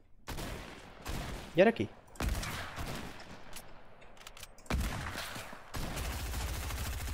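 Heavy gunfire in Fortnite, with several loud bursts of shots spaced across the clip and a voice speaking between them.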